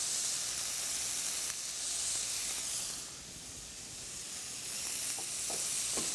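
Chicken breast sizzles steadily in a hot pan with butter added, a dense broadband frying hiss filling the scene, with a few soft clicks of a utensil toward the end and no voices.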